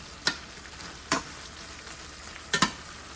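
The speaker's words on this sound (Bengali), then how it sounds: "আর স্বাদ মতো লবণ দিয়ে আমি ভালোভাবে মেখে একটু ফ্রাই করে নিচ্ছি চিকেনগুলা" Chicken pieces seasoned with garlic paste and salt fry in a pan, a soft steady sizzle broken by three sharp scraping clicks of stirring, close and fairly quiet with no talking.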